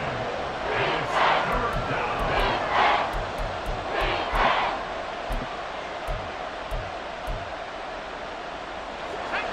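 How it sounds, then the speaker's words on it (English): Stadium crowd in a Madden football video game roars steadily, with several swelling cheers rising over the constant din, heard alone without clear talk. "this crowd doing their best to make a lot of racket"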